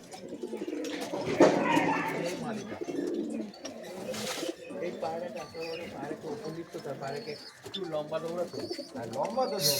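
An old-line pigeon flock at a home loft coos in repeated soft, throaty phrases that overlap one another, close and moderately loud throughout.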